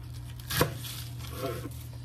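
A knife cuts a block of tofu in half, giving a single soft, brief chop with a slight squish, clear and close above a low steady kitchen hum.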